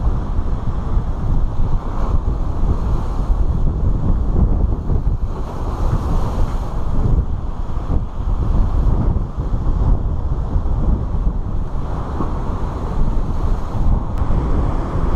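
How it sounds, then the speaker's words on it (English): Ocean surf and strong wind roll continuously at the Sebastian Inlet surfing beach by the north jetty, a loud, dense roar with heavy wind buffeting the microphone throughout and no talking. "This is the famous surfing beach."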